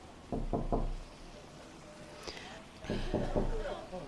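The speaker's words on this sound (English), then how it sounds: "Knock the door, please." Knocking on a door, two sets of three sharp raps separated by a pause, close and fairly clear against a quiet room with faint background noise.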